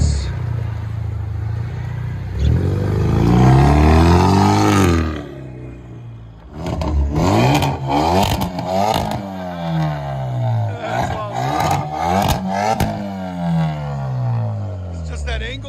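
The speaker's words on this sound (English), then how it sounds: "Veloster Turbo with blast pipes." A 2015 Hyundai Veloster Turbo with straight pipes and blast pipes, revved loud and close in repeated rising blasts, with a short pause before a series of sharp revs and pops.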